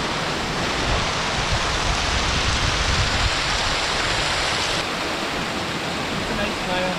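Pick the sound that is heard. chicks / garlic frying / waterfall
waterfall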